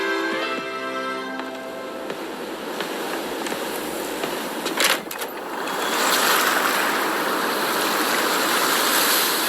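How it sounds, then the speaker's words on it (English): Wind and waves from a Pokémon video game trailer, a rushing, surging wash of water and gusts that swells louder in the second half after a brief musical opening. "Wind and waves."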